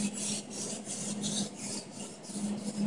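A kitchen knife sharpened on a stone, giving repeated rhythmic rasping strokes, close and fairly quiet, with no voices.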